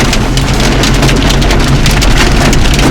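Hail and heavy rain pound a vehicle during a hailstorm in a forest area, a loud, dense, continuous drumming and hiss filling the whole clip with no voices.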